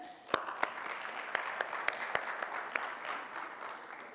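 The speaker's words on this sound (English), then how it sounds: "So a big round of applause for them." Scattered applause at a children's forum on drug-free environments: a modest crowd clapping, with several sharp individual claps standing out over a soft, steady wash of hand claps, fairly faint overall.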